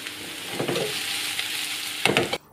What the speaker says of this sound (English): Then add the garlic, let that cook for a minute or two